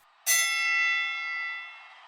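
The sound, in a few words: boxing ring bell ringing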